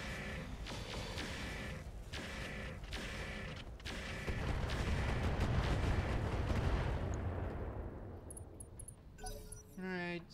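Mech weapons volley in RogueTech, the BattleTech game: a run of sharp mechanical firing clacks and rattles, swelling into a rumbling roar, then a burst of metallic chatter at the end.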